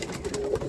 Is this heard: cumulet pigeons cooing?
yes